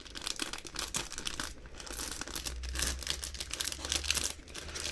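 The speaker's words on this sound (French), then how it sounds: "un polybag avec sa figurine, et c'est parti, maintenant on va l'ouvrir" A plastic LEGO Star Wars polybag holding a First Order Stormtrooper minifigure being crinkled and torn open, a dense continuous close rustle with no talking.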